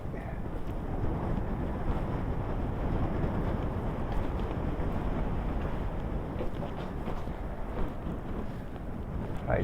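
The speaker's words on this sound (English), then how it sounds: "Back through we go in the wind tunnel." Strong wind roaring through a coastal rock tunnel during a storm, a constant dense rush with heavy buffeting against the microphone, loud and close, with no talk.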